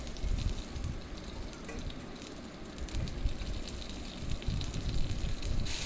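White mustard seeds and panch phoron crackle and sizzle in hot oil, a dense, fairly quiet spattering hiss with small popping bursts throughout, no voices.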